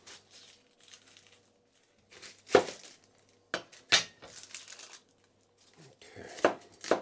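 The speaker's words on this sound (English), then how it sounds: "I want to get the vegetables cut up here." A garden onion chopped on a board for vegetables: scattered, irregular knife chops, close but quiet, with soft crinkly handling between cuts and long pauses.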